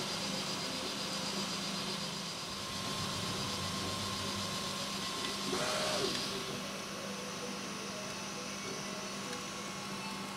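A 3D printer fills in the flat end of a printed cylinder, a steady close whirring and motor drone running continuously with a brief brighter swell midway.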